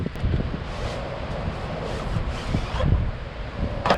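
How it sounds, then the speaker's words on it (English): Strong gusting wind outdoors buffets the microphone, producing a continuous rough roar with rustling swells and low thumps throughout. "it's very windy outside today"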